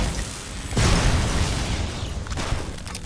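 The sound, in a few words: small explosion in video game Fallout New Vegas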